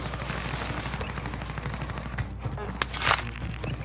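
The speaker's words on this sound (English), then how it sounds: "someone's shooting at me" Rapid gunfire crackles through a hectic video game firefight, with bursts of shots layered over a steady background rumble and one louder, brighter burst standing out near the end.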